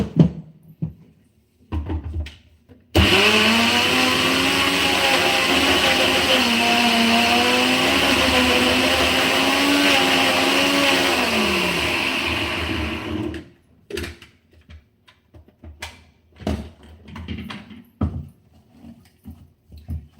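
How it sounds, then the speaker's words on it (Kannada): A kitchen mixer grinder whirs loudly for about ten seconds while grinding a coarse homemade chutney powder, its pitch sagging slightly before the motor cuts out; short knocks and handling clatter come before and after. "ಹೀಗೆ ಒಂದು ಎರಡು ಮೂರು ಸಲ ಮಿಕ್ಸಿಗೆ ಹಾಕ್ಕೊಂಡು ಪುಡಿ ಮಾಡಬೇಕು"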